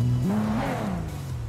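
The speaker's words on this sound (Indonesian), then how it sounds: "Kalian bisa denger ya suara turbonya segila apa, guys." A turbocharged car engine revs hard in a short, loud burst, its pitch sweeping upward and then easing off, heard close with no talking.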